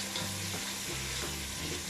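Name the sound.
eggplant bhurta frying in oil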